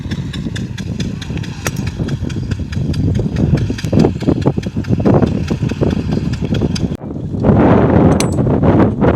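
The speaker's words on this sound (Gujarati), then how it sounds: "જો ટ્રેક્ટર આવી ગયું છે" A tractor engine runs at a well-digging site, a steady close mechanical chugging with rapid rhythmic knocks that grows louder near the end.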